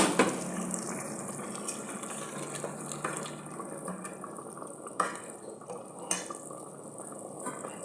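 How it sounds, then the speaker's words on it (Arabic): Water pours from a tap or jug into a cooking pot on the stove, a continuous close splashing rush with a few clunks of the pot, no talking. "نزيد عليها الماء، ندير شويه ديال الماء مرقه"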